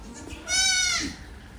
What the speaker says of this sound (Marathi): आता हे पण पिल्लू ओरडायला कारण ही शेळी जी आहे ती कालच येलेली आहे